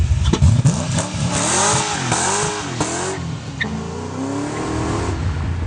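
A Mazda RX7 engine idles roughly, then revs up and down in several rising and falling sweeps, loud and close, with no voices.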